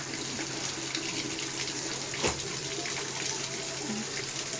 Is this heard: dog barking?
no